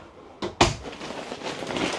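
A bedroom drawer in an Imagine AIM 15RB travel trailer slides and knocks shut, two quick close wooden thumps followed by quiet room tone.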